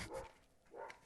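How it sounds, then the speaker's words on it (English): A dog barks indoors, two short, faint yaps about half a second apart, heard alone. "My dog's barking for no reason now."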